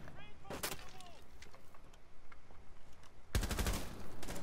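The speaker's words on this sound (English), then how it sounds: "Using a shotgun." Shotgun blasts in an online multiplayer shooter, two heavy broadband bursts early and a dense loud volley near the end, over continuous game noise and chatter.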